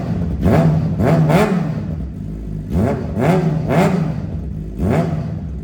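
A Suzuki GSX-R 600 sport motorcycle revs its 600cc engine in several sharp throttle blips, each rising to a rasping exhaust howl and dropping back to a rumbling idle, close and loud.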